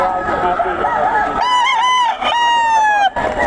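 Stag roosters crow loudly and close at a gamefowl market stall in Bocaue, giving long drawn-out calls one after another over a murmur of people talking and bargaining.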